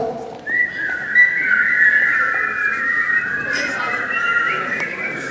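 A person whistles in the shower, a steady, fairly loud tune held almost continuously with slight wavering pitch over faint background noise.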